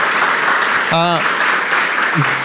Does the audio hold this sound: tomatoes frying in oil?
no